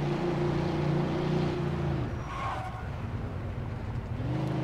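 Car engine from the video game Mafia 2, a loud steady hum that drops in pitch midway with a brief skid-like squeal, then revs back up, heard without talk.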